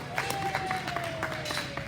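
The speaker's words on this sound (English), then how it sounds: "Give them a round of applause" Audience applause at a livestock sale of champions in an arena, a moderate wash of scattered clapping with faint crowd murmur and a thin tone running underneath.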